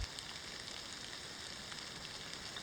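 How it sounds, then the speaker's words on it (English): Rain setting in over the Scottish outdoors, a steady, even hiss of drops pattering on surfaces with no distinct pauses, fairly faint and continuous throughout. "Rain's coming in now."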